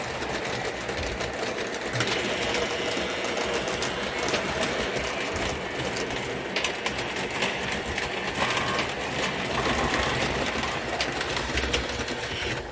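An O-27 gauge model train rolls steadily around its track, a continuous dense rattling clatter of wheels and motor hum at moderate volume with no pauses, filling the whole stretch.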